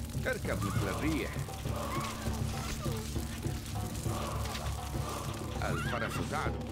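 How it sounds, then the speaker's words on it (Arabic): A horse whinnies several times over rapid hoofbeats, with voices talking and battle-like noise in the background, in the video game Stronghold: Crusader. "الفرس تعدو"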